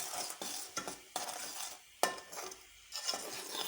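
A spoon stirring a tamarind and jaggery sauce mixed with lemon juice and tartaric acid in a bowl, a series of close, irregular scrapes and clinks against the sides, with one sharp knock midway and no speech.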